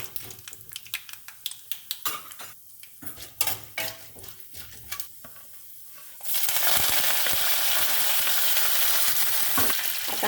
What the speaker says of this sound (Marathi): आता मी थोडेसे काजूचे तुकडे टाकते।